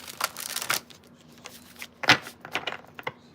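Tarot cards being shuffled in the hand, a run of quick papery riffles and soft slaps in short bursts, close and moderately quiet.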